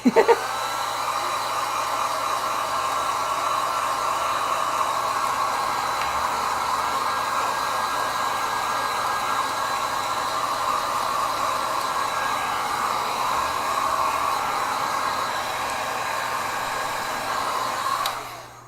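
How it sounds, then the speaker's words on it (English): A hair dryer drying a gouache painting blows steadily at close range with an even, rushing whine that holds for the full length before cutting off at the end. "I'm just going to dry it a bit with the dryer"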